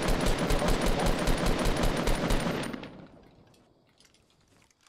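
Rapid, loud burst of gunfire and blasts in a video game, a dense rattling barrage lasting a few seconds before cutting off to quieter background noise with a faint sharp sound at the end.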